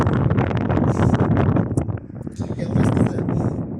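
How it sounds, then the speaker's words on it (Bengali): Strong wind blowing outdoors, heavy buffeting rumble against the microphone that surges and eases without pause. "আর এখানে অনেক অনেক বাতাস, অনেক হাওয়া চলতেছে।"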